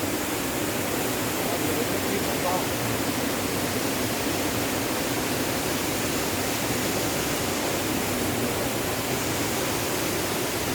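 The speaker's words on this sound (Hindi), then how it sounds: "काफ़ी ऊंचाई से झरना बह रहा है ये।" Waterfall plunging from a great height near a temple on a Chamba to Dalhousie trip, a constant loud roaring rush of water with no break and no speech.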